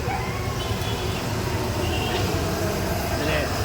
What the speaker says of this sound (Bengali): এই গ্যাসের আওয়াজ